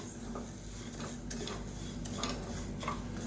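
Kattuyanam rice is dry-roasted in a pan with light stirring, giving a constant soft hiss under faint scraping and small ticking pops, close by and with no talk.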